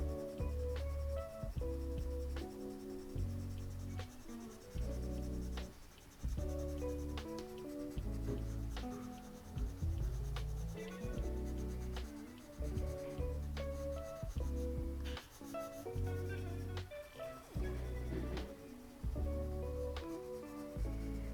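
A nectar-coloured pencil shades over paper in quick, rhythmic scratchy strokes, close and fairly quiet, repeating steadily with small pauses between passes.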